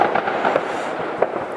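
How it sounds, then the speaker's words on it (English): New Year fireworks at a lakeside fishing spot crackle and pop continuously, with a couple of sharper bangs standing out against a dense, steady wash of distant explosions; no one speaks. "whether you can hear me or not over all the fireworks"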